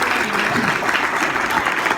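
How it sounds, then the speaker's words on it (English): An audience claps and applauds steadily for newly promoted people at a business event, a dense, continuous roar of hands with no pauses. "can we give a huge round of applause to everybody that literally just got promoted?"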